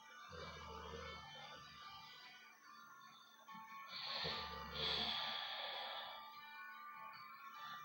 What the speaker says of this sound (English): She's not as loud as she normally is snoring, but there she goes.